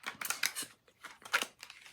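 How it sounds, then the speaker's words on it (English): Stiff, solid cardboard cards being shuffled, giving several bursts of crisp riffling and snapping in an uneven rhythm, close and fairly loud with no voices. "I'm shuffling it this way. These cards are solid cardboard."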